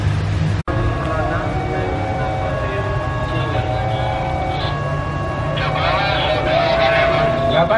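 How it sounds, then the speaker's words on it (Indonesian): A train rumbles into a station in heavy rain, steady with a continuous low drone and whining tones, with faint squeals near the end and people talking over it. "kedatangan kereta Joglo Semarkerto."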